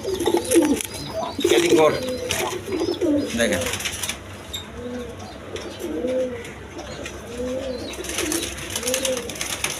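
Pigeons at a seller's place, including a male, give soft repeated coos in a steady rolling rhythm close by, with someone talking over the first part.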